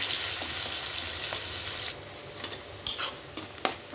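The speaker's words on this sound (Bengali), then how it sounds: "এবার পেঁয়াজটাকে ভেজে নিতে হবে।" Onions sizzle steadily in oil, then the hiss drops lower while a utensil scrapes and taps the pan several times.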